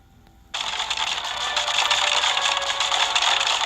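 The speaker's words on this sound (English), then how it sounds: "That's the sound of bone crunching." A sudden burst of harsh, crackling bone-crunching sound from the video game Castle Fusion starts after a short silence and keeps grinding steadily, loud and close.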